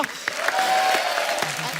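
A studio audience at The Kapil Sharma Show claps in a dense, sustained burst of applause, with faint voices mixed into the crowd noise.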